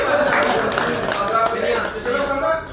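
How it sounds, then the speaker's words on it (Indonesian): Applause from an audience at a gathering of Aceh parliament members, a busy run of hand claps blended with a voice talking over it, steady and close. "Tepuk tangan."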